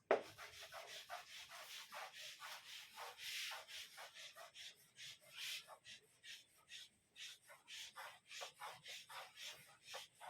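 Writing being rubbed off a board during a maths lesson on sets, heard as a long run of quick, rhythmic scrubbing strokes, fairly close and moderately loud, with no talking over it.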